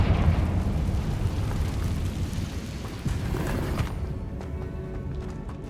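Confringo fire spell bursting inside a cave in Hogwarts Legacy, a loud sustained rumbling blast with crackling debris that rolls on for several seconds before thinning out.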